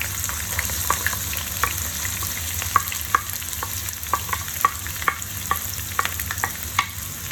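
Chopped onions, three medium ones, fry in hot oil in a pan for baingan bharta while being stirred, a steady sizzle broken by regular scraping taps of the spoon, close and moderately loud.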